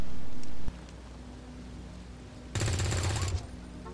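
A close, harsh burst of automatic gunfire in XCOM 2 rattles for under a second after a sharp earlier crack and a quiet pause.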